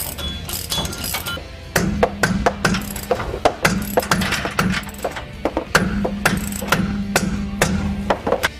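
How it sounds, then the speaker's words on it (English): A 3/4 inch deep socket ratchet tightens sway bar bolts, making rapid clicking and clattering metallic ticks in uneven bursts over a low hum. "you can start tightening things up with a 3/4 inch deep socket"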